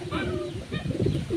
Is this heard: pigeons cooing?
yes